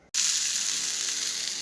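Mustard seeds, urad dal, red and green chillies tempered in half a teaspoon of hot oil for red pumpkin pachadi, a sudden loud steady sizzle and crackle of frying that starts abruptly and holds throughout.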